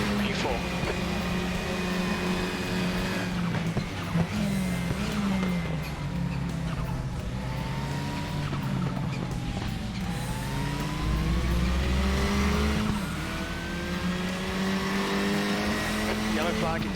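KTM X-Bow race car in the RaceRoom racing game, engine droning steadily with rising and falling pitch sweeps through gear changes and brief tire squeal, continuous and close.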